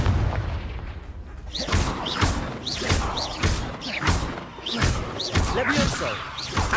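Repeated booming spell blasts in the video game Hogwarts Legacy, the Confringo explosion spell, landing as a run of thuds and bursts about every second, loud and layered under game effects and shouted voices.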